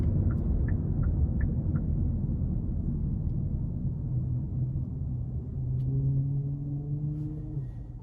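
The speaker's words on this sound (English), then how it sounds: "there's the auto stop that just kicked on" A 2021 Kia K5 LX 1.6-liter turbo engine idles with a low, steady rumble in the cabin, then settles as the auto stop system shuts it off, leaving a faint hum near the end.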